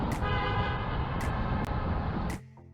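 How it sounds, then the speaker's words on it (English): A car horn honks in a road tunnel in Yosemite, with one long reverberant blare and short toots over it, then cutting off into the tunnel's ringing echo. "always honk your horn as you drive through the tunnel"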